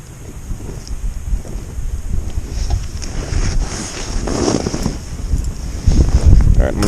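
Wind blows steadily across open ice during an ice-fishing outing, a broad rushing roar with buffeting gusts against the microphone that builds toward the end.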